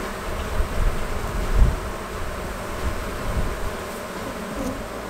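Honey bees in a Minnesota beekeeping hive inspection, a steady close buzzing drone that swells and fades slightly throughout, with no talking.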